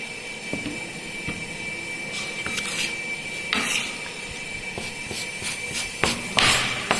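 Cement paste being mixed with water by hand for a Vicat consistency test, giving a steady scraping and rubbing with intermittent metallic clinks and taps of a trowel against a tray, close and fairly loud with no talking.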